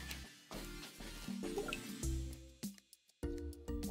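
Oil whisked with food coloring pours into a container of water, producing soft, close liquid glugs, drips and splashy trickles in uneven bursts with short quiet gaps.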